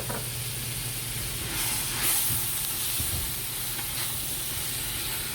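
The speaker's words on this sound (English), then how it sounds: "let's go ahead and throw in 2 tablespoons there of minced garlic" Minced garlic sizzles in a pot over sautéed vegetables for Louisiana courtbouillon, a close, steady hiss with faint crackles and a brief surge of steam, no talking.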